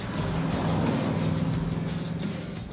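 BMW 507 classic sports car engine driving by with a throaty, steady rumble and road noise, moderately close and continuous, with no talk.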